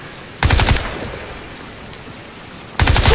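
Automatic gunfire from Crysis 3 in two loud, dense bursts, the first lasting about half a second near the start and the second arriving near the end, separated by quieter game ambience.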